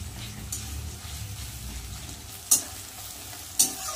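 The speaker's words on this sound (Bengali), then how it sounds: "পেঁয়াজটা একটু লাল লাল করে ভেজে নেব।" Chopped onions fry in a pan for a chicken gizzard and liver dish, giving a steady soft sizzle, with two sharp scrapes of a stirring utensil near the end.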